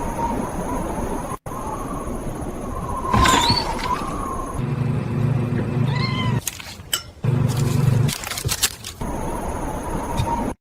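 Cat meows and caterwauls from a Breaking Bad parody, set against a steady background hum with a brief low roar partway through, several separate cries standing out over the mix.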